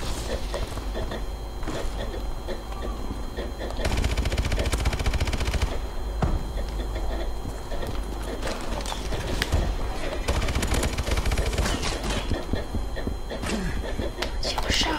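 Submachine gun fire in a battle royale style video game: dense, continuous bursts of rapid automatic shots, loud and close, with a player talking over the gunfire.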